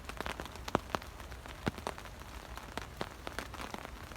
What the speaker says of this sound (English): listen to the sound of the rain on the tarp